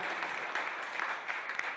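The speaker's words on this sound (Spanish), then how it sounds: "para el cual pido un fuerte aplauso" Audience applause at a conference on self-managed media, a short, moderately faint burst of many hands clapping together without a break.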